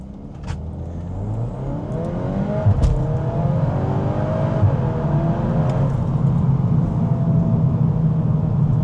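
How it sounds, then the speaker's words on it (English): A 2025 VW Golf R in sport mode accelerating at full throttle from inside the cabin, engine droning and rising through quick near-instant gear shifts, loud and continuous. "I got it in sport mode, and we're just gonna floor it and see what happens"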